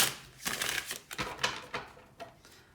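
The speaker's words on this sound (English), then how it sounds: "One more shuffle." Oracle cards are shuffled by hand in a series of soft, quick riffling bursts and flutters, close and fairly quiet, with no talking.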